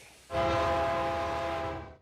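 A freight train horn in rural Roberts County sounds one loud, sustained blast. The steady chord starts abruptly and fades at the end, with no voices.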